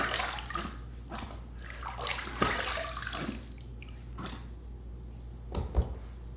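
Water splashes and sloshes in a sink basin as a razor is rinsed during a wet shave, with a few irregular splashy bursts and short trickles, fairly quiet and close, no talking.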